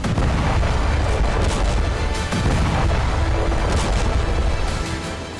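Heavy explosions and booming blasts from a Hezbollah missile attack on Tel Aviv, Israel, at night, a dense, continuous rumbling barrage of loud impacts with repeated sharp bursts, no voices.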